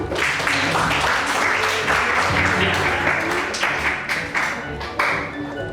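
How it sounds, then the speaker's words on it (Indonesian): A classroom of students applauding together, dense clapping with some rhythmic accents, loud and close, with voices mixed in underneath. "Sekali tepuk tangan."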